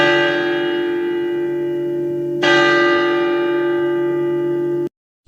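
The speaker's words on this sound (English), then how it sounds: "I am going to ring the doorbell." A cartoon doorbell gives a two-tone ding-dong. Each chime rings out clear and bell-like and sustains evenly before cutting off abruptly into silence.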